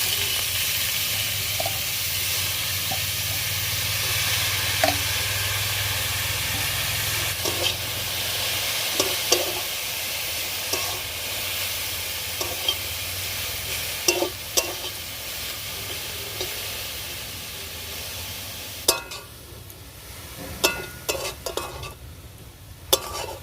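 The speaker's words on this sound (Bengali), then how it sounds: "এবার কপিগুলোকে মাংস ভাজা তেলে ভেজে নেব।" Chopped cabbage fries in oil left over from frying meat, giving a steady, moderate hiss and sizzle with occasional sharp clicks and scrapes of a spatula against the pan.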